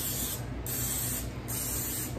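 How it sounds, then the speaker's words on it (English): Nonstick cooking spray hisses from an aerosol can into muffin tins in three close, steady bursts, loud and alone. "So we are gonna spray with our nonstick spray"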